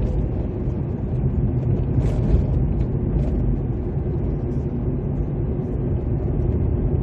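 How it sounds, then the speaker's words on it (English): A few cars pass on a road on Christmas Day, a steady, fairly loud low rumble of engines and tyres that stays constant, with faint higher rattles scattered through it. "Now there's a few cars here."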